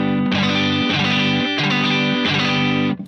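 Saturated surf guitar played through tube amps with reverb, loud sustained distorted chords changing in four repeated blocks, alone without talk.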